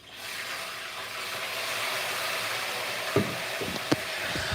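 A whole fish laid into hot oil gives a steady, loud sizzle that hisses on without a break, with a few soft clinks and knocks near the end.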